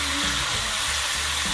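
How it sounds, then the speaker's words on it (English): Pork with ginger and dried seasonings stirred in hot oil for Jamaican brown stew, giving a brief, loud, dense hiss of frying that fills the moment without pauses or speech. "Now we're going to stir this around in this oil and let it get to work."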